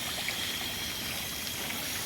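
Water poured into a cheap homemade self-wicking planter pot, a steady close trickle and splash running continuously through the short stretch with no talking.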